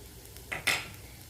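A utensil scrapes and clinks twice against a pan while carrot and coriander leaves are stirred in, a brief close metallic double tick over faint background hiss, no talking.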